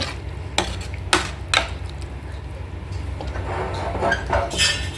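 A spoon scrapes and clinks against a metal pressure cooker while stirring bottle gourd mash, a few sharp knocks early on followed by softer, continuous scraping and sloshing close by.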